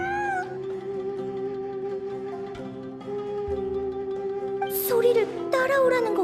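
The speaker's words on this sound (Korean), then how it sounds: "진짜 고양이야." A cat meows in the video game Genshin Impact, a couple of rising, wavering mews near the end over sustained ambient game music.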